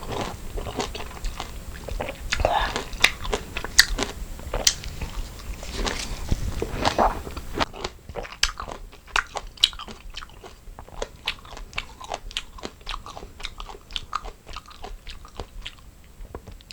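A whole lemon is bitten and chewed up close, with a long run of wet, crunchy bites and juicy chewing in a steady rhythm, alone without talk.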